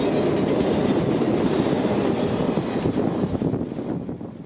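Freight train IO-44 rolls past on the rails at Dade City, a loud close rumble of wagons with rhythmic wheel clatter that slowly fades as it moves away.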